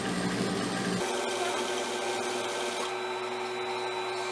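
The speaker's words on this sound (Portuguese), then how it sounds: "Dobramos o tecido e o forro e já passamos essa costurinha." A sewing machine runs continuously, stitching folded fabric and lining along a zipper edge for a small shoe-shaped pencil case, a steady mechanical whir with a lower hum that drops out after the first second.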